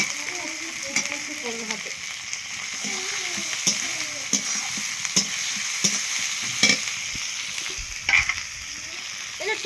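Meat frying in a pan with ginger paste just added, a steady sizzle under repeated scraping stirs and clinks of a spoon, with a brief word spoken partway through.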